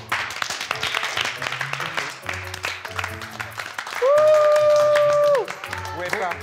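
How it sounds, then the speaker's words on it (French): Studio audience applauding a poker player named Gonzague on a televised poker show, scattered clapping mixed with crowd noise, a host's voice and a bright sustained musical tone partway through. "si on accueillait ensemble et si on applaudissait Gonzague"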